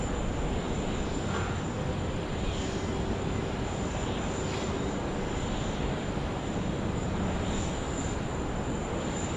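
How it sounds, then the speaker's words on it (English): A Qantas Boeing 737 jet at Sydney Airport gives a steady, broad engine roar that holds at an even level throughout, with no voices. "that's shortly followed by a Qantas 737"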